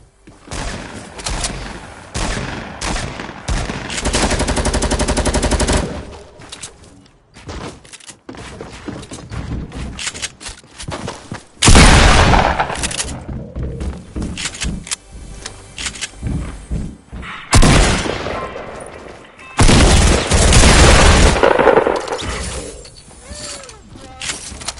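Light machine gun fire in Fortnite Getaway mode, heard as loud sustained bursts of rapid automatic shots separated by short pauses, with clattering mechanical and impact noises between them and no talking.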